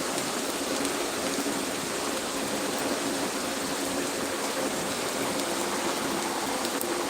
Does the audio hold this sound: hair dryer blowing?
no